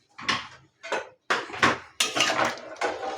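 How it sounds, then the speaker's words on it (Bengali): Potatoes dropped into a pot of mutton biryani, giving several close clattering knocks and scrapes of metal utensils against the cookware in uneven bursts, with no talk. "এবার আলুটা দিয়ে দাও"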